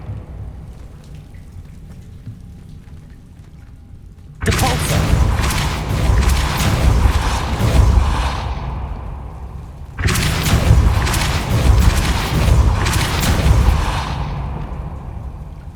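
Depulso repelling spell cast in Hogwarts Legacy, two loud, sudden broadband blasts each followed by a roaring, crackling wash that decays over a few seconds, with no talk.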